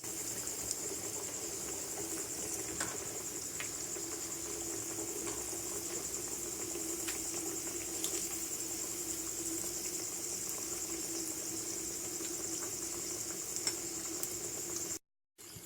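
Chicken nuggets fry in hot oil, a steady, fairly quiet bubbling sizzle with a constant hiss and faint crackles that runs unbroken for the whole stretch before cutting off briefly near the end.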